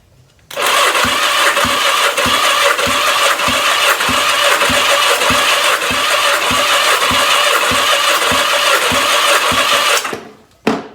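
A 1983 Yamaha XJ900 Seca motorcycle engine, started for the first time in six years, cranks with a loud, continuous whirring churn and rhythmic pulsing for about ten seconds before stopping.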